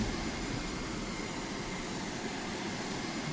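A propeller aircraft engine in the Carrier Command 2 video game drones steadily, a constant even whir and rumble with no breaks.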